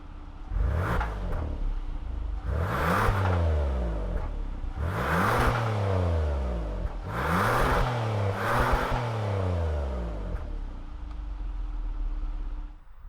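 A Kia Telluride SX V6 revving through its dual square exhaust tips, with four or five distinct throttle blips that rise sharply in pitch and fall back to a steady idle, close and fairly loud, with no talking.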